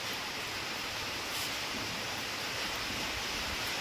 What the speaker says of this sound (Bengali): বেশ জোর আছে হাওয়ার, মানে এরকম হাওয়া হচ্ছে, আবার সাথে খুব বৃষ্টিও হচ্ছে, খুব জোরে হাওয়া হচ্ছে।